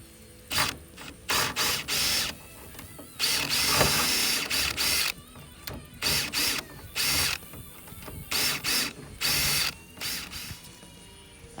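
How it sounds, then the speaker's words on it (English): A drill bores into the lock of a 1966 Chevy Corvair in repeated bursts of grinding, whirring mechanical noise separated by short pauses, close and loud. "drilling and hitting it with the screwdriver"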